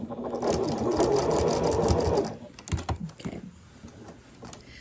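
A sewing machine stitches binding onto a quilt in a fast steady run for about two seconds, then stops and is followed by softer handling clatter, close by, with a short spoken word.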